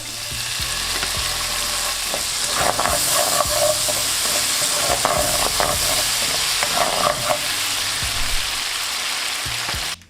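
Food sizzles and fries steadily in a hot pan, then passata is added, with intermittent scraping and clinking of a utensil stirring, close and continuous.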